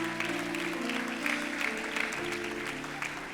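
A church congregation clapping for the Lord during a sermon, a dense, continuous wash of applause that holds steady and fairly loud throughout.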